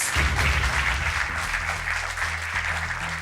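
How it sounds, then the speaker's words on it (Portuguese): A studio audience on the Portuguese TV quiz show Brainstorm applauds a contestant, steady loud clapping throughout while low music plays underneath. "Um aplauso para o João Coutinho."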